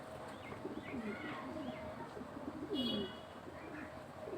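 A pigeon coos softly with a few low, rolling calls over steady background noise, moderately near, with other faint bird chirps.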